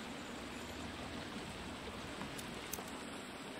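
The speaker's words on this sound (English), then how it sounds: "Sounds like there's some rushing water over here, though." Rushing water from a stream in the forest of The Forest VR game, a steady, soft broadband wash heard at a distance with no talk over it.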